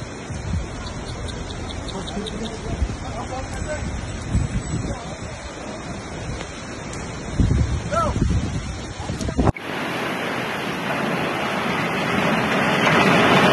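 Strong wind blowing at a street crossroads, a loud rushing roar with gusting buffets that swell toward the end, mixed with faint background chatter.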